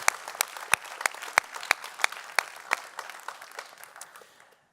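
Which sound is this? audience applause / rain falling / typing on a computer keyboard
audience applause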